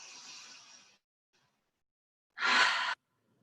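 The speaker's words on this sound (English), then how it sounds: "Deep breath in." A deep breath in during a yoga class, heard as a soft, airy inhale followed after a pause by a louder, fuller breath out, close and alone in an otherwise quiet room.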